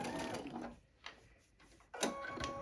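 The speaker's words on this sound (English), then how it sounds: "So now I am going to finish sewing this last side, giving myself a place to turn." A sewing machine stitches along the last side of a fabric bag, running in close bursts with a short pause in the middle before it starts up again loudly.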